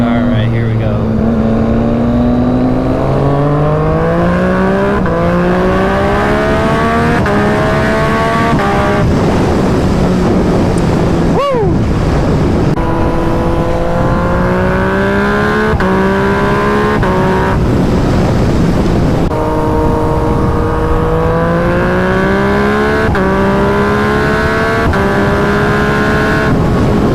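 A Yamaha FZ-09 motorcycle accelerating hard through repeated gear shifts, its engine note rising in long sweeping runs, loud and close throughout with wind noise, on a last ride.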